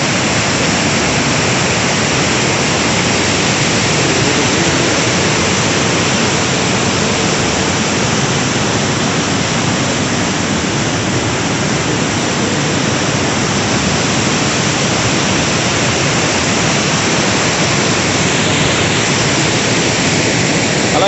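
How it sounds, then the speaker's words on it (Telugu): A waterfall in the Alluri hills after a night of heavy rain gives off a dense, unbroken roar from start to finish. It sounds close and loud, with no voices over it. "ఇక్కడ మీరు చూడొచ్చు నా బ్యాక్ సైడ్ అయితే కనుక వాటర్ ఫాల్ ఎలా ఉందో"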